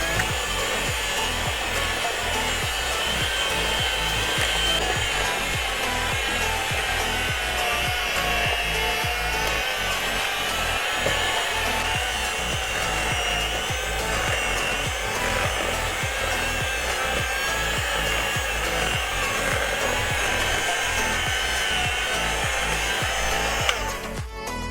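An electric mixer whirs without a break through cookie dough of flour, baking soda, cornstarch and salt for crunchy chocolate chip cookies, a loud, close motor drone with rapid rhythmic knocking from the beaters, ending abruptly, no talking.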